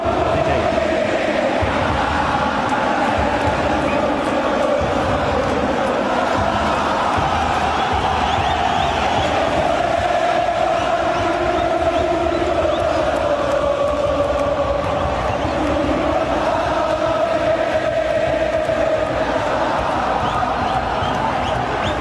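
Boca Juniors supporters chant in a loud, sustained roar through a match against Benfica, the massed voices swelling and holding a sung melody with no breaks.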